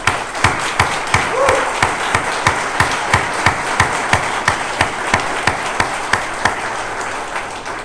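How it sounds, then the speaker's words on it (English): A crowd applauds the Oklahoma Attorney General's legal team at a Purdue Pharma settlement announcement, with a dense wash of clapping and a steady rhythmic beat of louder claps running through it for the full stretch. "Please stand and we'll give you a quick round of applause."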